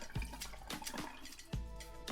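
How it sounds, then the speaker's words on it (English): Cold tap water runs steadily over drained glass noodles in a kitchen, a continuous splashing stream broken by a few sharper clattering knocks, close and moderately quiet. "Then I'm gonna rinse them off under cold water."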